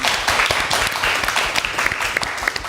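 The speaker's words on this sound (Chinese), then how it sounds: "此处有掌声哦" Dense, lively applause from a live-stream audience celebrating a YouTube channel passing 15.1 million subscribers at a New Year event, with many overlapping claps and sharp individual slaps throughout.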